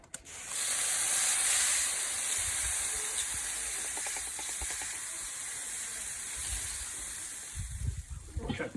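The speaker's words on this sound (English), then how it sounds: "I'm just going to give them a little spritz" Spray bottle spritzing BBQ pork ribs, a sustained hiss of misting close by, then a brief ratcheting patter and softer hiss, with a few clunks near the end.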